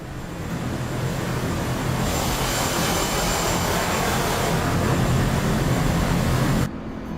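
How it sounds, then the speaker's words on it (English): Steady, loud roar of an FA-18C Legacy Hornet jet engine in a flight simulator, a broad, constant whoosh that cuts off abruptly near the end. "No, this is a FA-18 C model Legacy Hornet."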